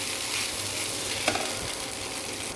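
Steady, close sizzling of pasta frying in a pan, an even crackling hiss throughout with one brief scrape.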